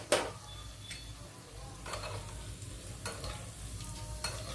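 Urad dal frying and being stirred in a pan, a steady soft sizzle with a few sharper scraping stir strokes and light ticks, close and moderately quiet with no talking.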